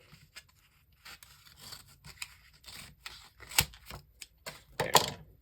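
Scissors trimming material that hangs over an edge, a handful of crisp snipping cuts in short bursts, the loudest near the end, close and fairly quiet with faint handling sounds between.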